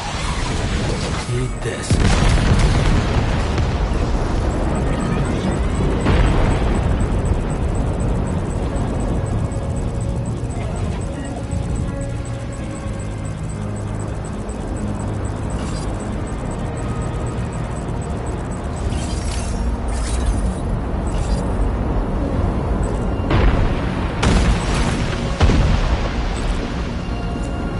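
Heavy booms and rumbling blasts mixed with gunfire fill a Death Stranding 2 battle, loud and sustained with sharp impacts scattered throughout, and a brief spoken line cuts in.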